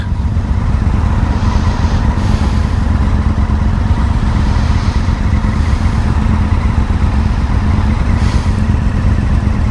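A 2017 Honda Africa Twin motorcycle engine drones steadily and loudly up close while riding, its low rumble rising and dipping briefly a few times as gears shift.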